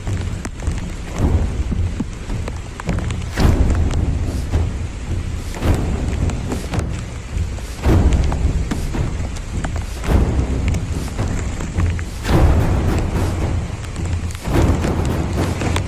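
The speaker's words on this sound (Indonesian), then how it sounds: "Angin dan hujan semakin kuat" Strong wind and heavy rain batter a mountainside on Gunung Kute, Tambelan island, with a constant roar and rushing gusts that surge every few seconds, loud and close.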